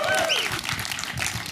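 Audience applause at a film interview event, a dense wash of clapping filling the clip at steady loudness, with a few faint whistle-like tones riding over it early on.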